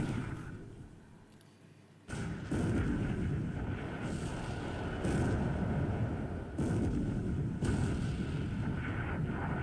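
Naval gunfire and shells striking belt armor in the War in the Pacific strategy game: heavy, booming artillery salvos arrive in several rolling waves after a quieter opening, forming a sustained, thunderous battle roar.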